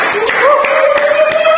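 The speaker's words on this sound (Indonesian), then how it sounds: "Tepuk tangan buat Kazi" A handful of scattered claps, about four distinct hits spaced roughly a third of a second apart, from a small audience greeting a guest on a Karawang entertainment talk show, over a sustained humming voice.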